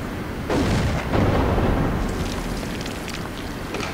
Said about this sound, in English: Okay, random explosions,